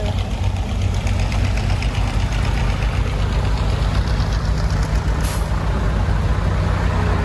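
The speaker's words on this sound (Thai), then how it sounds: "สิบล้อมารับ เนี่ย มาซื้อทราย" A ten-wheel truck pulls in at a sand-washing yard to load sand, its diesel engine rumbling and knocking steadily nearby, with a short hiss of air brakes near the end.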